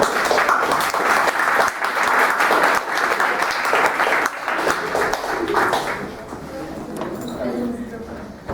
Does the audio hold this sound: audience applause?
yes